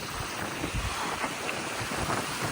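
Steady, dense rushing of water at the top of a waterfall in New Zealand, a continuous broadband roar mixed with gusty wind buffeting the microphone, with no voices.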